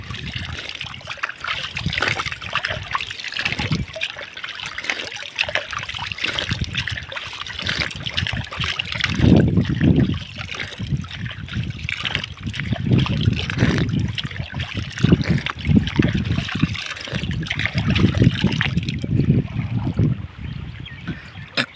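Water flowing steadily in a field irrigation canal, a continuous gurgling trickle with occasional splashes, fairly close and without voices.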